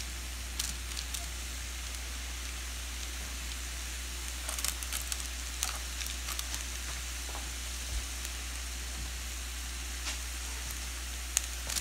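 Onion, chiles and garlic roasting together on a comal give off a steady, low sizzle with scattered faint pops and crackles throughout, close and quiet with no talking.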